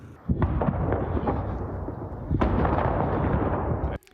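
Two heavy explosions boom close together amid war-damaged buildings in Ukraine's Donetsk region, each followed by a long rumbling roar that fills the air before cutting off abruptly.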